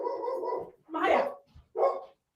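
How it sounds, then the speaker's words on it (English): A pet dog barks indoors during a live talk show broadcast, several loud bursts close to the microphone with people talking around them. "Do you hear my dog?"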